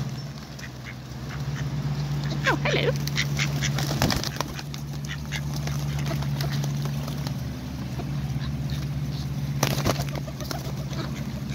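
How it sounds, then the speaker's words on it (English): Coots and wild ducks call in scattered quacks and squawks around a feeding spot, with splashes, flapping and steady outdoor background noise; a person briefly speaks. "Oh, look, the coots came here too."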